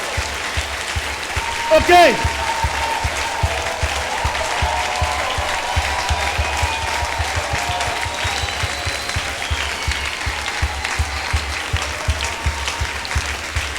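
A church congregation claps steadily in rhythm, a dense crowd sound with a voice speaking briefly over it.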